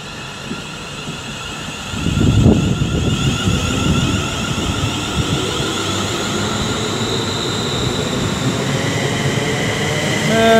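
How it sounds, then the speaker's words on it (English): A London Northwestern Railway electric train rolls through Rugby station on the West Coast Main Line, its low rumble swelling after a couple of seconds into a loud, steady drone with sustained motor whine. "London Northwestern Railway service to London Euston, departing about 6 minutes late."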